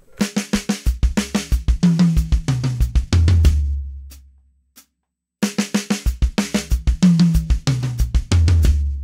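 A drum kit plays a fill of four quick sixteenth-note snare hits followed by a bass drum pattern, loud and close, repeated twice with a short pause between passes.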